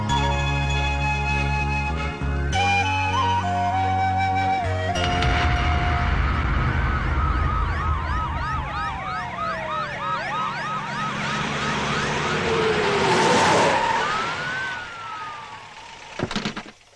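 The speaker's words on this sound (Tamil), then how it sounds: "சங்கூதுற மாதிரி சைரன் ஊதிட்டு வரானுங்களே" Several emergency sirens wail and sweep in overlapping patterns, growing louder as the vehicles draw near, with a steady rumble underneath and a door thud near the end.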